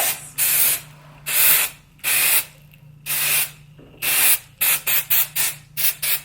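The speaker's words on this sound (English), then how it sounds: "I'm gonna spray this to the roots" Repeated short hissing bursts of an aerosol texture spray onto curly hair roots, a series of longer sprays followed by quicker, choppier ones, close by with no talking.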